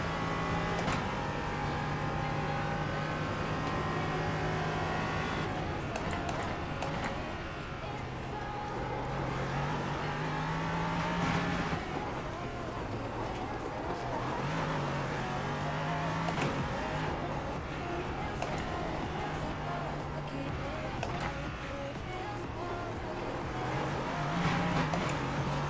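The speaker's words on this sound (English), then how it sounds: "Yeah, this is LMP3, Dave." An LMP3 prototype race car engine at Belle Isle runs continuously, its pitch rising and falling through repeated gear changes, heard as a steady, moderately loud drone.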